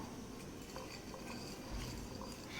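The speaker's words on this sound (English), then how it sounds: "After you put in the seasoning into the plate, don't forget to stir it up" A utensil stirs seasoning into spaghetti on a plate, giving soft, continuous scraping and faint clinks of metal on dishware, quiet and close, with no voices.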